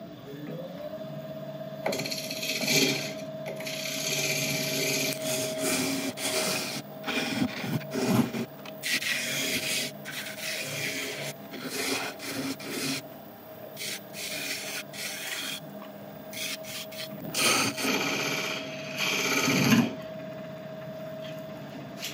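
A lathe hums steadily while a turning tool cuts a tenon on an elm bowl, scraping and rubbing against the spinning wood in uneven bursts, with a faint high whine throughout.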